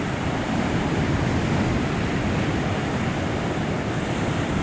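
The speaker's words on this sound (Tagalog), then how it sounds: "Maganda sana kung hindi maalon." Rough surf rolls onto a beach at a villa in Kuiburi, Hua Hin, Thailand, a steady broadband wash of breaking waves with wind noise over the microphone, no voices.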